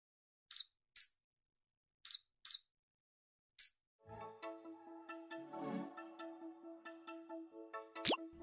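A mouse gives a handful of short, high, separate squeaks, faint and spaced apart, followed by a softer patch of low, fluttering sound.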